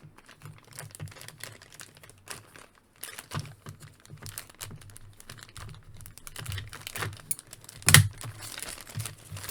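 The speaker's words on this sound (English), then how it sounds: "here's another baggie. Let's cut this one open real quick." Small plastic toy accessory baggie cut open: close crinkling and rustling of thin plastic with soft scissor snips, ending in one sharp crisp crackle.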